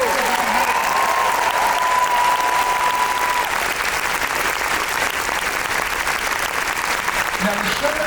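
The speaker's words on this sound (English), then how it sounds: "let's please join me in applauding everyone at D23" An audience applauding at a D23 musical celebration show, a full, sustained round of clapping from a large crowd, loud and even from start to finish with a faint tone briefly beneath it.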